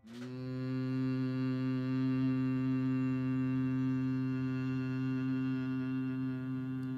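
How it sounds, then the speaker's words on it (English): A steady, rich harmonic drone holds one pitch for several seconds, swelling in at the start and sustaining evenly without a break. "A long, constant humming sound, making a drone."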